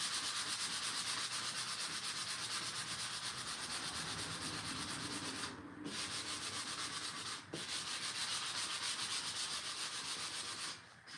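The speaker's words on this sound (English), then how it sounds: "you just sand and wait. Sand and wait." Sanding a custom phone stand by hand, producing a continuous close, loud rasping rub with a fast back-and-forth texture, interrupted by a few brief pauses.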